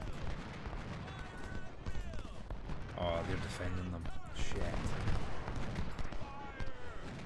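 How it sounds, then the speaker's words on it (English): Musket volleys and cannon fire boom and crackle across a Civil War battlefield in Ultimate General: Civil War at the Battle of Chickamauga, repeated bursts of gunfire under someone talking. "let's get a volley on them melee here, both sides."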